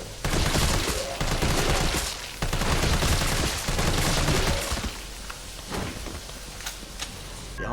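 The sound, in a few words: gunfire while reloading in video game Resident Evil 3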